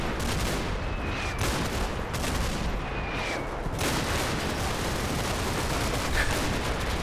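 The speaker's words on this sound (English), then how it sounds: "Lots of Bren fire, none of it's having a particularly astounding effect though." Bren light machine guns firing in the video game Combat Mission: Battle for Normandy, steady distant bursts and scattered cracks rolling on continuously over a dense battlefield din.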